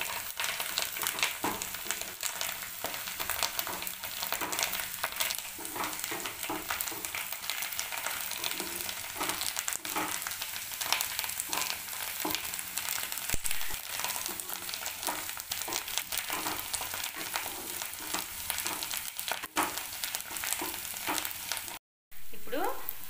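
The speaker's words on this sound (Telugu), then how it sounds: "ఆకులు ఫ్రై అయ్యేకొద్ది చాలా కొంచెం అయిపోతుంది." About thirty leaves fry in a pan with a steady, dense sizzle that runs almost unbroken, with occasional stirring scrapes close by and one brief dropout near the end.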